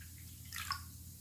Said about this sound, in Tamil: இதில் 1 டம்ளர் தண்ணியை ஊற்றிக்கோங்க